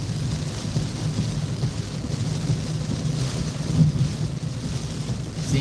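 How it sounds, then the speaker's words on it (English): Gusting wind from Hurricane Idalia buffets a car in Perry, Florida: a steady low rumble of rushing air and microphone buffeting that swells slightly, with no voices. "it's already like shaking the car from these like little gusts."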